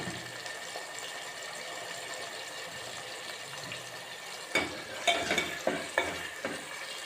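Ginger garlic paste frying with curry leaves and seasoning seeds in hot oil for a cabbage tomato curry, a constant gentle sizzle, then several close spoon scrapes near the end.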